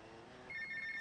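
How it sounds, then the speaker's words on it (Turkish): A phone rings in the video game GTA Vice City, a steady electronic trill that starts midway and holds at moderate level over a low game background hum. "Telefonu iptal ediyorsunuz."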